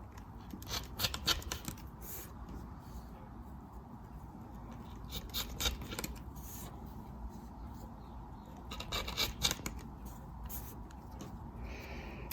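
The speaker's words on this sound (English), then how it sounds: "I'm gonna cut a piece of felt that's about 2 inches." Scissors snip through a piece of felt for a cross-stitch floss organizer, quiet close-up cuts in short irregular clusters over a soft background hiss.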